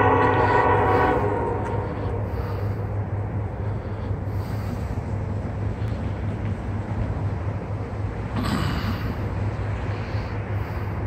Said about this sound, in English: There's that second train.